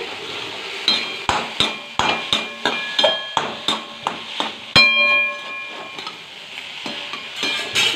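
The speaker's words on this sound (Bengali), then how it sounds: "তো সেটা দিয়ে এখানে আমি নাড়াচাড়া করে নিচ্ছি।" A spoon stirs salt into biryani in a cooking pot, giving a rapid run of sharp metallic clanks and scrapes against the pot's sides that ring briefly, close and fairly loud, with no talking.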